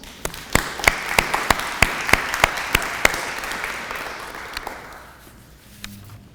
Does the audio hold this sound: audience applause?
yes